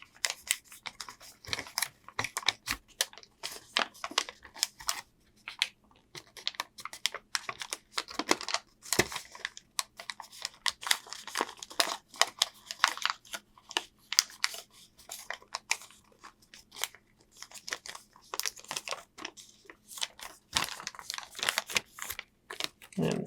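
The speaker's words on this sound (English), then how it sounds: "We form that first layer as a mountain fold, and then the whole next layer will be valley folds." Paper being creased into origami sink folds, layers pressed as mountain and valley folds: a dense run of close, crisp crinkles and soft snaps, steady and busy throughout with no talk.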